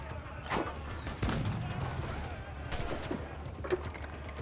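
Gunfire crackles in an Assassin's Creed pirate battle while ships are being boarded: several quick shots in a loose, irregular volley at moderate distance over a low rumble of background game sound.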